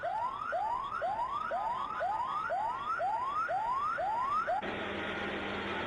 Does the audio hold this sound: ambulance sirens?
yes